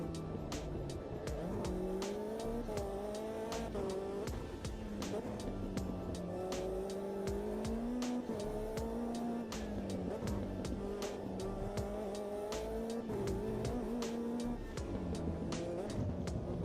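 Race car in a racing video game, the engine droning continuously as it rises and falls through gear changes, with rhythmic tire squeal and clicks running throughout, steady and even in level.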